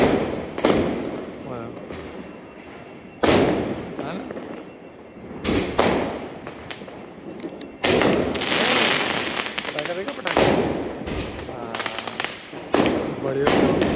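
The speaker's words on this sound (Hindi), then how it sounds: "भव्यांश अब पटाखे से डर नहीं रहा है, पटाखे को देख के समझ रहा है कि क्या हो रहा है।" Diwali firecrackers bursting outdoors in a series of loud, sharp bangs and thuds spaced a few seconds apart, with crackling between blasts and family members talking underneath.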